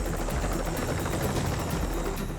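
A helicopter near a landing pad at a jade mining site gives a steady, loud broadband roar with faint rhythmic rotor pulsing throughout.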